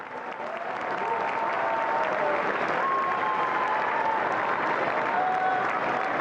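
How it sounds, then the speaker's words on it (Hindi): Sustained applause from a large audience honoring the Prime Minister at Bharat Mandapam during the Viksit Bharat Young Leaders Dialogue, a dense continuous wash of clapping swelling after the first second with faint whistles or tones on top. "आपकी तालियां रुकनी नहीं चाहिए।"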